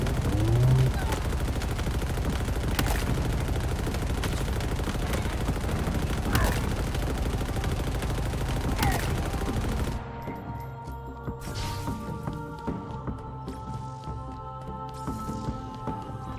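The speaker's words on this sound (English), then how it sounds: "we gotta operate the machine gun" Mounted machine gun in the shooter Halo Infinite hammering away in a long, loud, continuous burst, with sharper blasts cracking through. It cuts off abruptly near the end, leaving quieter game ambience and faint voices.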